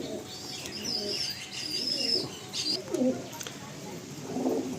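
Several pigeons, including paired fancy pigeons, coo and chirp in a home loft; soft overlapping calls come close by against a low background murmur, with a brief wing flutter.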